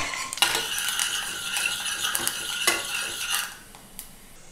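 Panch phoron spices being stirred into hot mustard oil in a pan, heard as a steady bright sizzle with repeated light clinks and scrapes of a spoon against the pan, no voices.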